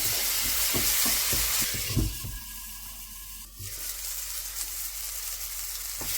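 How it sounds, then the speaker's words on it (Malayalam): Chopped tomatoes cooking in a pan, stirred in rapid scraping strokes over a steady sizzle, then the stirring stops and a softer, even hiss continues alone. "ഇതൊന്ന് മൂടി വെച്ച് വേവിക്കാം. ഇടയ്ക്കൊക്കെ ഒന്ന് തുറന്ന് ഇളക്കി കൊടുക്കണേ"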